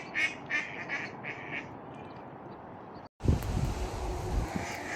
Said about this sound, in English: I will eventually hear some ducks quacking at each other